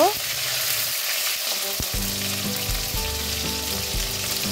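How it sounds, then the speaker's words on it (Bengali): Five-spice seeds, green chilies and tomato fry in a hot wok, a loud sizzle flaring as the ingredients hit the oil, followed by a steady crackle with repeated low thuds and scrapes of stirring. "এখানে আমি কড়াই গরম করে পাঁচফোড়ন দিয়ে দিয়েছি আর কাঁচা লঙ্কা আর টমেটো দিয়ে একটু কষিয়ে নেব"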